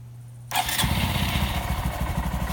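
A Honda Monkey motorcycle engine cranks and catches abruptly after a faint hum, then settles into a steady, close, putting idle with no talking.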